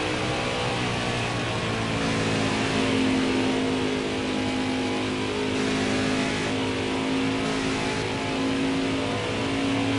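Race car engines drone steadily through a stage of a truck-series race, with Tyler Reddick's number 8 working through lap traffic; a loud, continuous roar with a sustained engine tone and no pauses.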